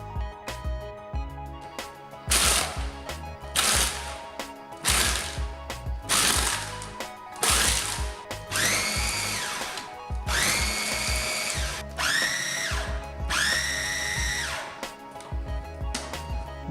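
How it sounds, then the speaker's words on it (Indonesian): A blender grinds spice paste with chicken bouillon, fine salt and sesame oil until smooth, running in loud whirring bursts that stop and restart, with the motor pitch rising and falling over about seventeen seconds. "Blender hingga halus."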